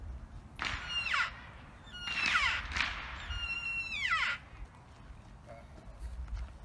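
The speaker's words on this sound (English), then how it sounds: "Does an elk call." An elk call blown on a multi-purpose game call, loud, squealing bugle-like whistles rising and falling in three to four bursts, close by and with no talk over them.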